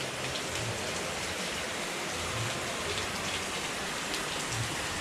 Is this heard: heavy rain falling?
yes